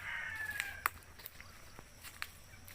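Chickens raised in a rural province cluck and call faintly, with a thin, drawn-out crow-like note at the start, scattered sharp clicks and light footsteps over quiet outdoor ambience.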